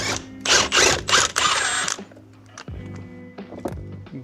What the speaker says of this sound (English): And then we can take this bolt out here, and this is a 15/16.